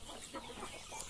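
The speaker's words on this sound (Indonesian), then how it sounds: "Nah ini induk-induk ayam saya, induk-induk super saya" Large kampung hens cluck softly in a short burst of low, irregular clucks against farmyard background noise.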